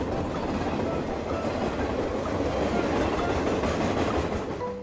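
A passenger train rumbling steadily on the rails as it pulls into a station, a continuous loud rolling clatter with no voices.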